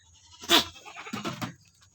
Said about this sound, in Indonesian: Ini yang besar ini kambing apa namanya nih?